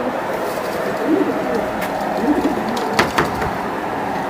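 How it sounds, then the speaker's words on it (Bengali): Pakistani teddy pigeons give soft, low cooing calls at close range, two or three brief coos amid a noisy background of indistinct voices and handling sounds. "এগুলো অনেক ভালো মানের কবুতর"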